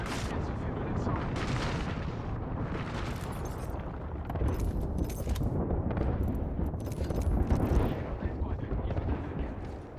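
Enemy gunfire in Apex Legends rattles dense and continuous, with overlapping shots and blasts forming a loud, sustained barrage throughout, with a voice speaking at times beneath it.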